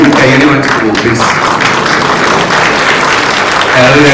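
An audience gives loud, continuous applause at a film event, close dense clapping filling the whole stretch with some voices mixed in.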